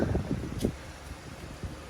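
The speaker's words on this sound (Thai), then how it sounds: "ลมแรงมาก" Strong outdoor wind buffets the microphone with low, uneven rumbling gusts that are loudest in the first second and then settle into a steadier roar.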